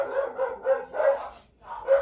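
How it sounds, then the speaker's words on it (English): Several dogs bark close and loud in a rapid run of sharp yelps, with a short gap before one more bark at the end. "Holy cow, those dogs are going off like a firecracker."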